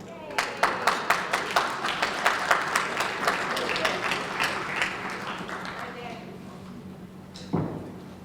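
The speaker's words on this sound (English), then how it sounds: "Give him a round of applause, ladies and gentlemen." Audience applause at a jersey retirement celebration, starting as distinct loud claps from close by that blend into a steady crowd ovation, which fades toward the end before a single sharp thump.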